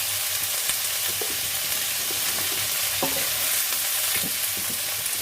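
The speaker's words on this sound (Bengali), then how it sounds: "এবার সমস্ত সবজিগুলোকে ভালো করে পাঁচ সাত মিনিট মতন ভেজে নেব" Vegetables with eggplant, sesame seeds, green chili and beans fry in a pan, giving a continuous close sizzle with scattered clicks and scrapes of stirring throughout.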